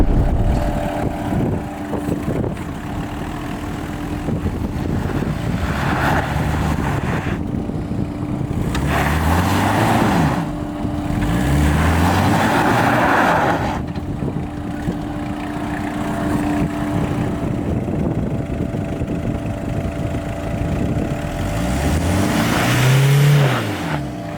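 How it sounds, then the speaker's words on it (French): An off-road 4x4 in two-wheel drive revs hard in repeated loud bursts as its wheels spin without grip short of an obstacle, the engine droning steadily between surges. "On n'est même pas arrivé à l'obstacle et on patine déjà."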